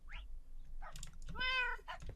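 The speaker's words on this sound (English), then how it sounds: "This is my cat, Batgirl." A pet cat meows several times up close, short rising cries with a longer drawn-out meow in the middle, in a quiet room.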